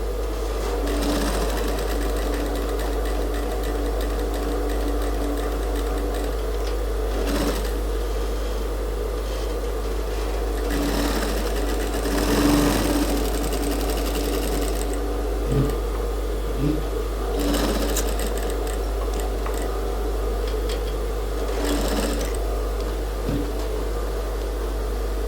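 A sewing machine stitches a dart on a women's suit in long, steady runs of close, buzzing whir, broken by a few short pauses and handling knocks.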